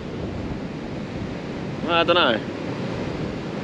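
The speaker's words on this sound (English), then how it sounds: "Well, here we are on the beach and it's still rough. Rough, windy and a bit stormy over there." Rough, stormy surf and gusty wind on a Fraser Island beach make a constant loud rumbling roar with microphone buffeting, and a voice speaks briefly midway.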